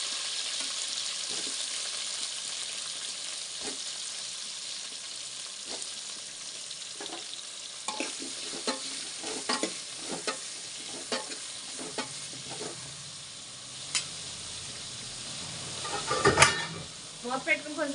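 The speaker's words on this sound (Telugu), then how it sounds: "టమాటో, బెండకాయ, ములక్కాడ, వంకాయ వేసేద్దామండి. వేసుకుందాం నూనెలో." Tomato, okra, drumstick and brinjal frying in oil for sambar, a steady sizzle with repeated stirring scrapes throughout and a louder burst of crackling near the end, with no talk.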